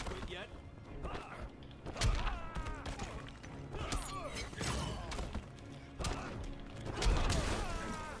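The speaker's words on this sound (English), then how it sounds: "Stop smashing me into the sign." A fighter in the Injustice 2 video game is repeatedly smashed into a sign, giving heavy thuds, crashes and whacks over a busy game soundtrack while a person talks throughout.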